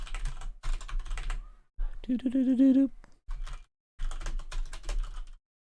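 Clicky typing on a computer keyboard in quick bursts separated by short pauses, close and clear, with a brief stretch of voice in the middle.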